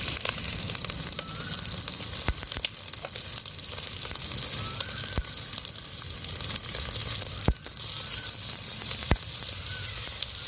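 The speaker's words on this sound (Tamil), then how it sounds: "அடுத்தது இதில் கொஞ்சம் இஞ்சி பூண்டு பேஸ்ட் போடுறேன்." Ginger garlic paste fries in a hot pan for Pallipalayam chicken, giving a steady, close sizzle with occasional sharp ticks and scraping stirs throughout, no talk.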